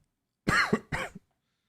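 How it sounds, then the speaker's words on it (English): A man coughs twice in quick succession, a close, harsh pair of bursts with a throaty rasp, followed by silence. "Goddamn chronic cough."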